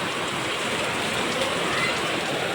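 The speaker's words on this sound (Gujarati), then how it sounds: "ફૂલ વરસાદ ચાલુ છે અત્યારમાં" Heavy rain pours steadily outside a window during an unseasonal downpour, a dense, continuous hiss of drops beating on surfaces close by, with no voices.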